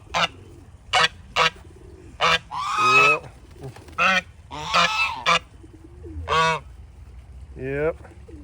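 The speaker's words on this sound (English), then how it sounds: "And there's the geese back there." Geese at a Florida petting zoo honk loudly and nearby in a run of repeated calls, some single and some drawn into longer squawking bursts, mostly alone.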